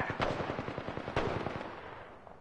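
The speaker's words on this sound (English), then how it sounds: "Taking fire!" Rapid automatic gunfire in the battle royale game Apex Legends, a dense burst of sharp shots, loud and close, then tapering off into scattered echoing reports.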